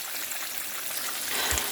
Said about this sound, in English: I'm just going to let this continue frying.